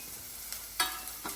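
Onions sautéing in a pan during home cooking, a steady faint sizzle with a few soft stirring scrapes at intervals, no voices.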